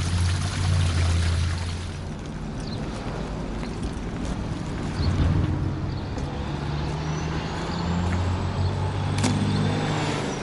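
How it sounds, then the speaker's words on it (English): Grey water from an RV's holding tank drains into a portable waste tank with a continuous rushing, gurgling flow, steady and fairly loud throughout with a low rumble underneath. "I'll pull the gray lever and let's see what I have in store once this thing is full."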